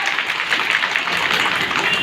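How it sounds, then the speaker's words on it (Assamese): Audience applause at the opening of an Anganwadi centre, a steady, even patter of many hands clapping that fills the whole moment at close range. "আপোনালোক আটাইৰে বাবে এক ৰাউণ্ড ধুনীয়াকৈ হাত চাপৰি"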